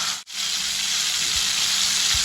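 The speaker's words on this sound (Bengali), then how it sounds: "এবারে আমি এর মধ্যে দিয়ে দেবো হলো ওই কেটে রাখা পেঁয়াজগুলো।" Chopped onions dropped into hot spiced oil sizzle loudly and steadily, a brief break near the start followed by a continuous close crackle, with no talk.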